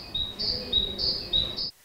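A titmouse call plays from a museum interactive table: a rapid series of about six thin, high, ringing notes in quick alternating pairs, clear and close, then cutting off abruptly.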